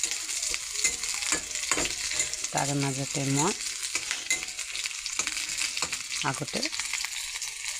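Green chillies from the field, slit open and frying in a pan, give a steady crackling sizzle throughout, with a person talking over it at intervals.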